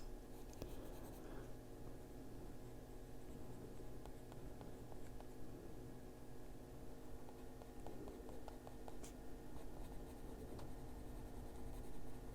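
Light blue colored pencil scratching steadily on paper while coloring a butterfly in an adult coloring book, a close, continuous soft rasp with small rhythmic strokes throughout.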